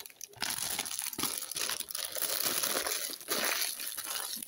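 A small plastic bag of embroidery threads crinkles steadily at close range while the threads are packed away after cross-stitch work, with no talking over it.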